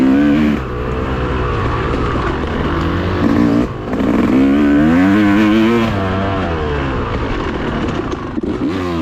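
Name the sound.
enduro dirt bike engine riding on trail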